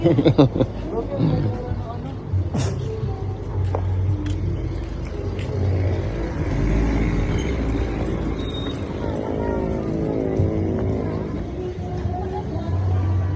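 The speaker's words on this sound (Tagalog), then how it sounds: "Oh, may sasakyan na." A vehicle passing on a road, a low rumbling engine that swells and fades amid outdoor noise, with people talking over it and a voice nearby.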